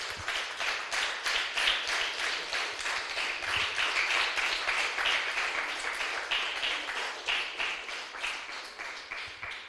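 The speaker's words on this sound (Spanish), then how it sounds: "Denle un aplauso fuerte al Señor" A church congregation claps for the Lord during a Spanish-language service, producing rhythmic, fairly even clapping at moderate distance that continues for about ten seconds.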